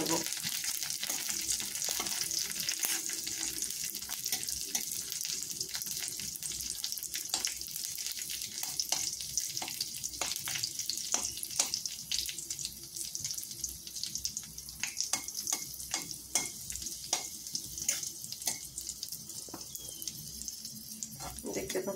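Raisins frying in hot oil as they puff up, a steady dense sizzle with scattered small pops and crackles, close and continuous throughout with no talk.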